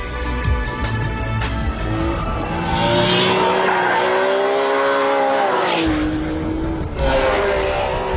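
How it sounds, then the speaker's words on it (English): A Ferrari 599 GTB Fiorano supercar with a 612 bhp V12 engine drives hard, its engine note rising and falling through gear changes with whining harmonics and tire squeal, loud and close throughout with no talking. "It has a 612 brake horsepower V12 engine"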